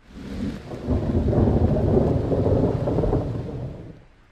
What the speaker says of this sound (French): Il y a un orage.